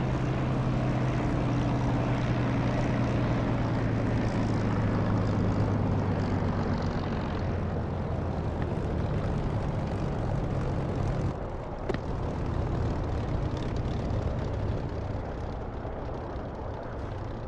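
A DCS flight simulator aircraft rolling along a runway after landing, its engine a loud, steady drone with a falling tone early on and a brief dip near the end, no talk.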